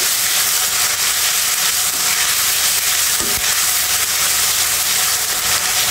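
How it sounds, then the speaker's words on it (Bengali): A paste of onion, garlic and green chili, added with cumin and cinnamon, sautéing in a pan for a Katla fish curry. A loud, steady hissing sizzle runs throughout with faint stirring knocks midway. "এখন আমি এটা সুন্দর করে কষিয়ে নেব।"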